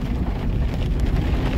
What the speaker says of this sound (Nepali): हावा हुँदै आयो